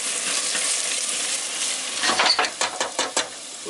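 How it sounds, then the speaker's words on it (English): A spoon stirs Caribbean coconut rice and peas with Scotch bonnet in a hot pot, over a steady close sizzle, with scraping strokes that quicken near the end. "Give it a little stir again."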